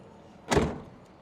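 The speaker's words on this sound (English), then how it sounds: "When I close the door" A single quick closing thud of a security enclosure door, a short faint knock alone against a quiet background.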